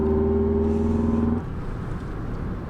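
Engine intake of a Rover while cruising: a steady, droning engine tone holds for about a second and a half, then gives way to a broader, rougher rumble of road and engine noise.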